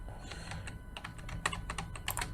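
A computer keyboard sounds quietly as keys are pressed, including Control and Tab, making a few quick clicks in small irregular bursts with no voice.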